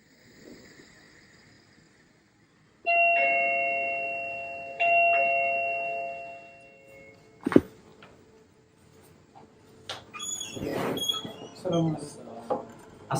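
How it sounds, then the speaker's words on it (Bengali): A two-tone doorbell rings inside a home, its clear chime tones sounding near and loud and slowly fading, followed by a second ring and then rustling, a door and voices talking. "কলিং বেল না দাও, খুব ঘুম ভেঙে গেছে"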